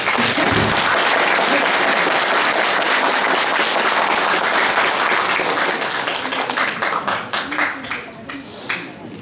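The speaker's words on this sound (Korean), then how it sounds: "다시 한번 큰 박수로 마무리 짓도록 하겠습니다" A large audience at a book launch event in Chuncheon gives sustained, loud applause that thins into a few scattered claps near the end, with some voices heard through it.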